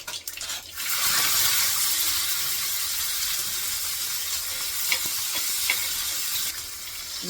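Mustard seeds, cumin, garlic and chili sizzle in hot oil in a pan, a steady close hiss that swells after about a second and holds, dotted with a few sharp pops and crackles, with no talk over it.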